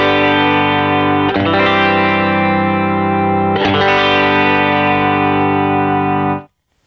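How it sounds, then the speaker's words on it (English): Sustained electric guitar chords shimmer with a gentle chorus pedal effect, struck twice and left ringing before cutting off abruptly. "So the chorus side sounds like this."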